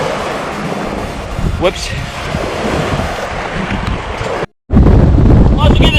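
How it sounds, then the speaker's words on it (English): Strong wind at the sea near Omokoroa during a kayak outing buffets the microphone in a loud, steady roar. It drops out briefly and then comes back harder, with a voice calling out over it. "Too damn windy."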